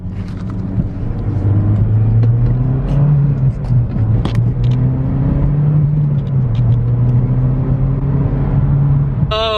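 A car speeds along a road, its engine a steady, close drone that rises and dips slightly as it drives on. A sharp rattle of the camera being jostled comes right at the end.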